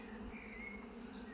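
Bees humming at an opened beehive during a hive inspection, a steady close buzzing drone filling the brief moment without any talk.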